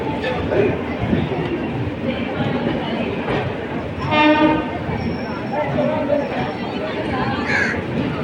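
A train sounds its horn at KSR Bengaluru City railway station amid loud platform bustle and rumbling rail noise, the horn a brief harmonic blast in the middle, with people talking nearby.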